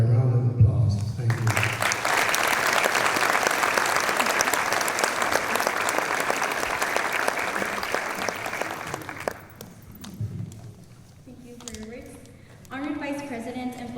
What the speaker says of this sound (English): I want the parents and the inductees to be recognized by a round of applause.